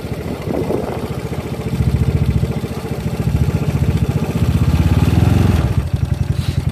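Znen ZN150T-9 GY6 150cc scooter engine running steadily up close on a stand, a loud rhythmic putter that rises slightly in pitch as the throttle is blipped, then settles back toward idle near the end.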